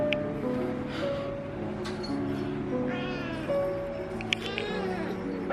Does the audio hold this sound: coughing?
no